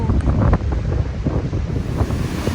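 Ocean surf washes continuously on a beach at Hilton Head Island, with heavy wind buffeting the microphone and no talking.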